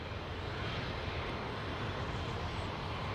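Air Force One, a Boeing VC-25, taxis at LAX, a loud continuous jet engine roar filling the air at steady volume with no break.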